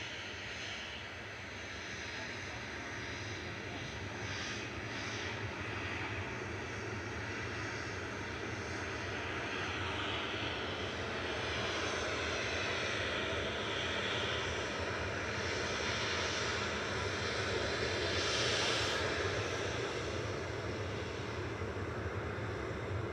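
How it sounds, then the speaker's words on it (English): A Ryanair Boeing 737-800 departs Manchester Airport, its engines producing a steady, broad roar that builds slightly and holds for a long stretch, distant but dominant with no voices. "departing next is Ryanair to Memmingen. Saw this come in not too long ago. Flight 1947. 9HQDJ 737-800."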